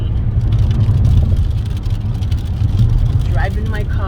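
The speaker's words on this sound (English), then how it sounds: "driving my car" A car being driven gives a steady, close low engine rumble with a whirring hum, while someone talks over it.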